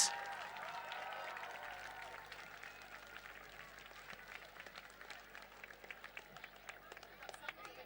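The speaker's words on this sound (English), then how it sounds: "Give them a big round of applause as they come around." Spectators at a 24-hour run event clap faintly and sporadically outdoors as runners come around the track, with scattered individual claps and some talking in the background.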